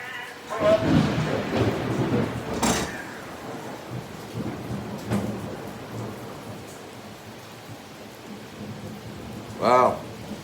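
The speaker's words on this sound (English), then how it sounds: "Got a nice little thunderstorm come over" A thunderstorm brings steady rain with rolling thunder, a loud crack and rumble early on, quieter rumbles through the middle and another sharp burst near the end, with faint talk beneath.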